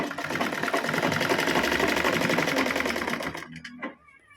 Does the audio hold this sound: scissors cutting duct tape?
no